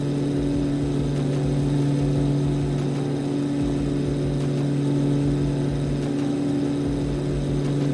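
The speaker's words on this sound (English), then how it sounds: "Just trying to use the drone to get away from those noisy engines" Aircraft engines in Microsoft Flight Simulator drone loudly and steadily throughout, a continuous humming roar with no pauses.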